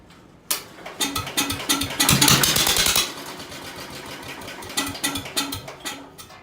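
Rough, uneven running of a Ford car engine that is badly out of tune, revving in irregular surges, loudest for a few seconds early on, then settling into a ragged, sputtering idle close by.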